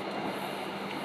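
Inside the Sancaka passenger train between Solo and Jogja, a continuous loud rumbling rattle from the bogies on the rails fills the short stretch, with no talking.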